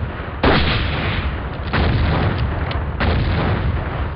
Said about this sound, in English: Oh my god, giant grenade.